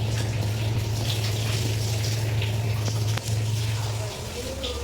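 Water gushes and splashes as it is poured into a cleaning machine, heard alongside a steady low motor hum that cuts out briefly and then resumes before the pouring fades.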